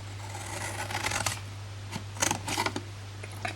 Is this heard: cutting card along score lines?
yes